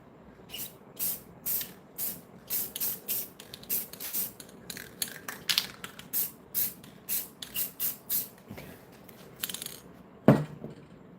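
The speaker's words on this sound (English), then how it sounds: "we're gonna give these one more coat of varnish or spray clear gloss spray paint" Repeated short bursts of clear gloss spray paint hissing from a can onto frames, each a second or so, with brief pauses between them and faint rattling sounds.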